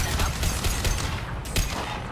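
Dense, continuous gunfire from a firefight against Geth in Mass Effect 2 on Insanity difficulty, with overlapping shots and impacts forming a steady, loud barrage with no pauses.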